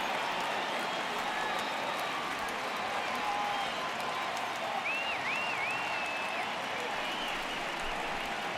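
A virtual ballpark crowd in MLB The Show 18 cheers and claps for a 3-2 count, a continuous broad roar at steady volume with a whistle cutting through.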